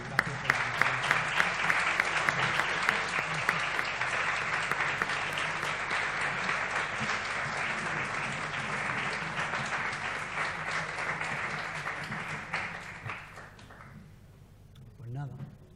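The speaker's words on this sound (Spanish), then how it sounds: "antes le damos un aplauso por gracias por la conferencia" Conference audience in a hall giving sustained applause after a talk, dense clapping that holds steady for over ten seconds before thinning out and fading.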